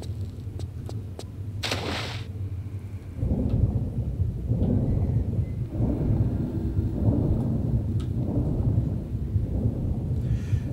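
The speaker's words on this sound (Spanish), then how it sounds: "Parece que está lloviendo." Rain falls steadily in a Tomb Raider level, overlaid by deep rolling thunder that swells in repeated loud rumbles after a few sharp clicks at the start.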